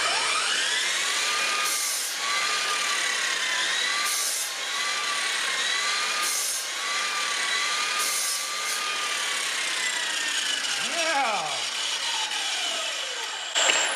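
A miter saw with speed control set to about 3000 RPM and 2 horsepower cuts through wood, a loud continuous high whine with rhythmic rising and falling pitch as the blade bites, then winding down at the end.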